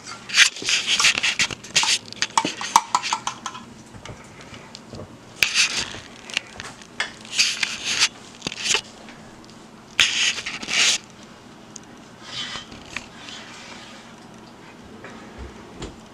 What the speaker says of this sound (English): So now that we have added our egg into the noodles, I'm going to stir that.